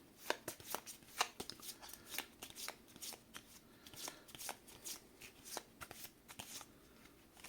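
Cards being shuffled for the Aeon's End board game, a steady run of crisp riffling snaps and flicks close by, with no voices over it.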